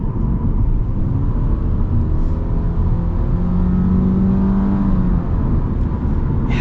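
A 2026 Subaru Impreza RS with a bigger engine accelerates, heard from inside the car as a continuous loud, steady engine drone and road rumble with a slight rising tone midway.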